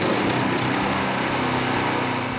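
The 13-horsepower Honda 4-stroke petrol engine of a Hansa C13 wood chipper runs at a steady, loud drone with a buzzing mechanical hum, unbroken throughout.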